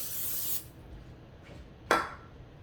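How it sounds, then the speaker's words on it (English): A short close hiss of non-stick cooking spray sprayed into a hot pan, lasting about half a second, followed by faint rubbing and a brief sharp scrape. "I'm going to spray it with a non-stick cooking spray."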